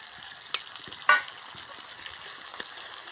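Chicken pieces sizzle steadily in a pan as cumin paste is added, with a couple of sharp scraping stirs standing out over the constant frying hiss.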